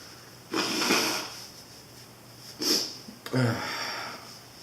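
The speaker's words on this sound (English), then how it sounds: "I'm gonna blow my nose." A person blows their nose after eating a 7 Pot SR hot pepper, in two or three close, breathy bursts, followed by a short wet sniff.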